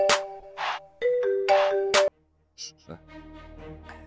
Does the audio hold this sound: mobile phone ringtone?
yes